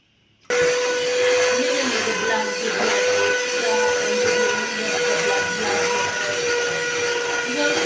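An electric mixer whirs steadily through eggs, starting abruptly and holding a loud, even motor drone with a faint whine to the end.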